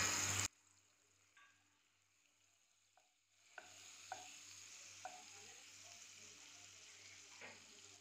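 Butter melts in a pan for butter paneer masala, giving a faint, low sizzle after a short loud opening burst, with scattered light clicks and taps over a quiet hiss.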